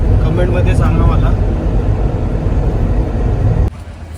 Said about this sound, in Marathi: गाडीमधून असा आवाज येतो काहीतरी.